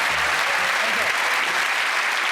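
A studio audience at a magic show applauds loudly and continuously to welcome a magician, a dense, close wash of clapping throughout.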